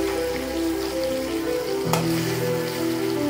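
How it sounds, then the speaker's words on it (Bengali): Shing fish (stinging catfish) being turned over in hot oil, giving a loud continuous sizzle with one brief knock or clatter midway, close and without any voice. "এভাবে উলট পালট করে ভেজে নিতে হবে ভালো করে।"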